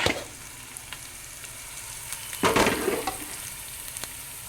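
Ingredients for mutton paya curry frying in a pan give a steady soft sizzle, with a louder burst of crackling and stirring midway, then quieter spatters; no voices.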